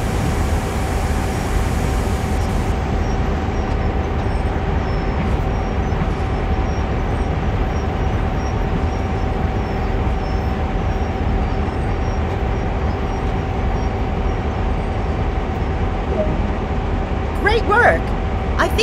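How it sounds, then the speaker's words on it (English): Continuous low rumble of a GP38-2 locomotive train rolling and slowing in Train Sim World, with a steady tone and faint squeals near the end as it brakes; a voice speaks over it. "bring the train to a gradual stop"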